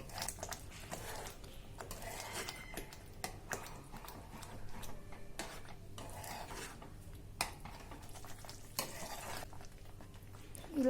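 Watermelon rind halwa being stirred with milk in a pan, giving soft scraping and faint sizzling with occasional sharp spoon taps against the pan, steady and close, with no talk.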